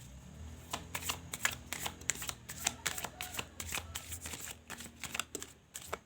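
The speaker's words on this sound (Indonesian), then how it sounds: "Padahal saya pelan loh ya shuffle kartunya." Tarot cards are shuffled gently by hand, a dense run of quick crisp riffling flutters and soft slaps repeating steadily and up close, with no talking.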